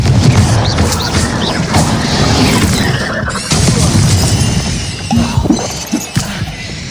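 Confringo blasting spell in Hogwarts Legacy, a loud burst of shattering, crashing explosion noise with debris and impacts, followed by further smashing bursts and crackles over several seconds.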